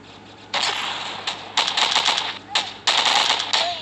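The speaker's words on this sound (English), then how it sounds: "I'm gonna choose the AK to show y'all how the AK is" AK rifle fire in the Milk Choco shooting video game comes in short rapid bursts with gaps between them, crisp and fairly loud, with no voices over it.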